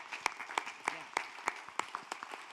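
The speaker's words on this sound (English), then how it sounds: "I'd love to give you all a round of applause." A small church congregation gives a sparse round of applause at a Sunday celebration, with a handful of distinct, fairly loud claps spaced out in an uneven rhythm over a quiet room.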